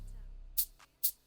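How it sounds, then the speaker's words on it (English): A shaker percussion sample from an FL Studio Afro house beat plays two quick bright hissing shakes with a softer one between, over a faint low tail of the previous sound. "they add in a shaker, which sounds like this"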